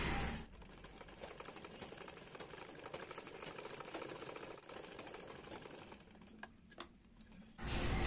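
A non-electric sewing machine stitches piping onto a churidar neck, running steadily with a fast, even mechanical clatter for several seconds, close up, then briefly pausing and starting again.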